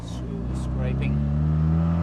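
A restomod 1972 Mazda RX3 Savanna with a 13B turbo rotary engine revs loudly, its pitch rising steadily as it accelerates close by.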